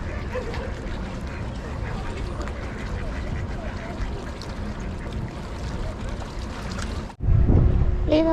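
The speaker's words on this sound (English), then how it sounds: "look at all the duckies." Ducks quack along a lakeside village walk at Lake Arrowhead. The calls are brief and scattered, mixed into busy outdoor crowd noise and nearby chatter, then a louder close burst at the end.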